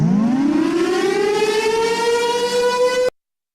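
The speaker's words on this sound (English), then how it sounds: "I am a fire siren" Fire siren winding up from a low pitch into a steady high wail, loud and close, running for about three seconds before cutting off abruptly, with no voices.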